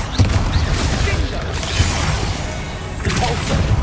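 A Confringo blasting curse in the Hogwarts Legacy video game lets off a burst of crackling, rumbling blasts with whooshing debris, heavy low thuds repeating over a few seconds.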